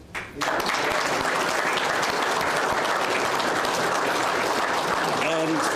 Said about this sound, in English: If we can just keep the applause going again to all the recipients and congratulate them for the awards today.